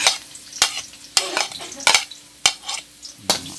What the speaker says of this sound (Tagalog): Medyo na prito-prito na ng konti, sunod natin ang ating bawang.